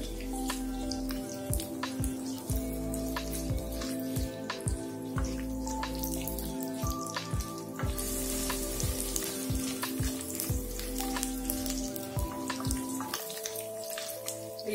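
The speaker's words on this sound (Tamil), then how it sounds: "இப்ப வெங்காயம் நல்லா வதங்கிச்சு." Onions, garlic and chilies sizzle in a pan of oil for a ginger curry, with a steady close frying hiss and scattered pops and crackles throughout and no talk.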